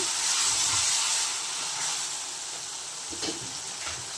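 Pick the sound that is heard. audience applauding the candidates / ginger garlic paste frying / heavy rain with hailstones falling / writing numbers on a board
ginger garlic paste frying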